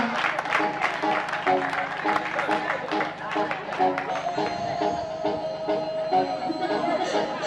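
An audience at a school awards ceremony at the Complexe Handré Daves applauds in a sustained wash of clapping, with a voice and other sounds running over it.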